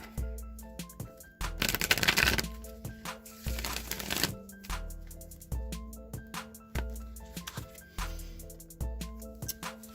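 An oracle card deck is shuffled several times in a row at close range, with soft riffling bursts and flutters over gentle background music and no speech.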